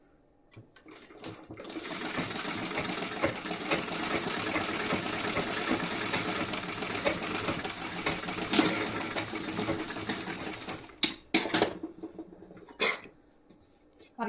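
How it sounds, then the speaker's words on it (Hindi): A sewing machine stitches the front part of a blouse in a steady run of roughly nine seconds, followed by a few sharp knocks and handling sounds as it stops. "अब यहाँ की सिलाई बची है, इसे भी मैं सिलाई लगा दे रही हूँ।"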